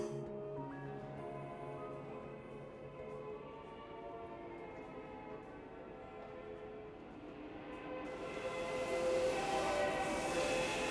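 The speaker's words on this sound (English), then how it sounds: "we're off to Moscow on one of the world's most romantic trains" A train heading to Moscow with 19th-century carriages rumbles steadily along the track, its hum holding a constant level before louder, rushing noise builds over the last few seconds.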